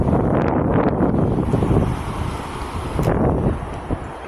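Strong wind buffets the microphone beside a trout creek, a loud, rough, continuous rumble with gusty surges and no voices.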